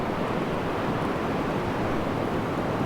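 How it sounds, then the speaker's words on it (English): Broadband, steady rush of Gulf Coast ocean surf and wind, loud and continuous throughout with no clear individual wave breaks and no voices. "It's better waves, honestly."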